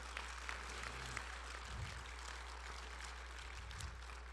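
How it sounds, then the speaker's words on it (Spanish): Church congregation applauding during a Spanish-language sermon, a steady diffuse wash of clapping over a low constant hum, moderately distant and fairly faint, with no talk over it. "Dé un aplauso al Señor."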